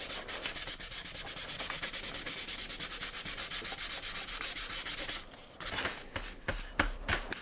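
A Nintendo Zapper light gun's plastic shell is sanded by hand with 320 grit sandpaper, giving quick, even rubbing strokes in a fast steady rhythm that pause briefly before rougher, irregular scrubbing, close up with no talking.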